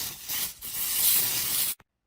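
A can of sunscreen spray gives a single sustained hiss, close by, lasting under two seconds before cutting off abruptly.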